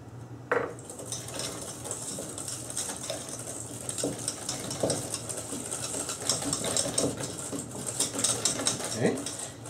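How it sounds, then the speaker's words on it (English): Flour and corn starch are stirred in a bowl for pastry cream, giving quick, rhythmic scraping and clicking at close range that runs steadily throughout at moderate loudness. "You stir it well."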